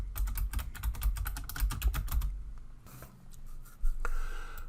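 Rapid keystrokes on a computer keyboard while entering text in Photoshop CC, a dense close run of clicks for about two seconds, then sparse, quieter taps and faint handling noise.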